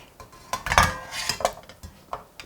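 Cooked Korean spicy braised beef short ribs lifted and placed into a pot, producing a few quiet clinks of utensils against cookware with soft knocks in a kitchen.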